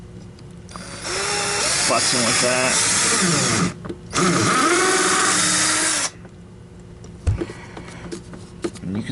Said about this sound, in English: I am going to put it in the drill.